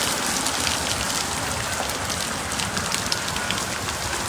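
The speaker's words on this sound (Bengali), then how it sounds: "আমি জাস্ট ক্যামেরা দিয়ে আপনাদেরকে দেখানোর চেষ্টা করছি কী পরিমাণ বৃষ্টি হচ্ছে" Heavy rain from Cyclone Remal pours onto a rooftop by the Kumira Guptachhara river ghat, a dense, constant roar of drops drumming on surfaces, loud and close, with no voices.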